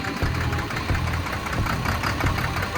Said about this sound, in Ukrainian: Отака в нас робота двигуна.